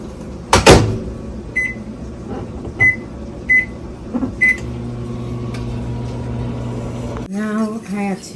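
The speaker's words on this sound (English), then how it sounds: "microwave it for about at least 45 seconds" A microwave oven runs with a steady hum while heating cookie dough in a small bowl, punctuated by a clunk at the start, several short bright beeps, and a louder rattling burst near the end.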